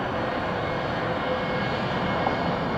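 A Boeing 757 airliner lands at Atlanta Hartsfield airport on runway 09 right, its engines a loud, steady roar throughout with no break.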